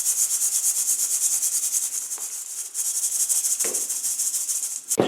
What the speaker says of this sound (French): Filtrer la cendre des morceaux de charbon, beaucoup plus gros.